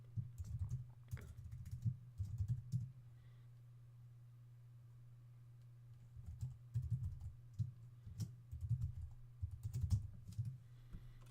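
Computer keyboard typing in short bursts of rapid key clicks, with a pause in the middle, over a steady low hum while someone fills in an online application form.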